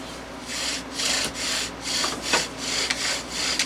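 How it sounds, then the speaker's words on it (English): Rhythmic wooden rubbing strokes of a basswood bow drill, about seven back-and-forth passes in a steady rasping pattern, close up and fairly loud, with no voices. "We are now doing basswood, bow drill."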